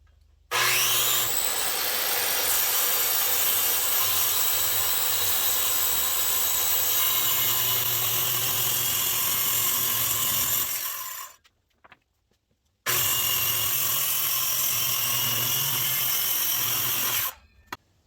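A power saw cuts through MDF sheets in a garage with a loud, sustained whining rip, stopping briefly before a second long cut that ends abruptly.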